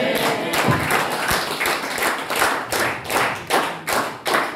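A church congregation claps during a Sunday sermon, a loud run of rhythmic, slightly uneven hand claps repeating steadily and close, with no talk over it.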